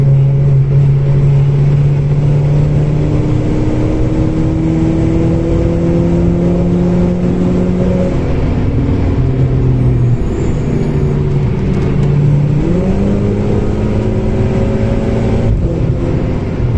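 A Volkswagen Scirocco at the Nürburgring pulls hard with a loud, steady engine drone, rising through the revs and dropping with gear changes before climbing again. It runs continuously across the whole stretch, close and dominant, with no talk.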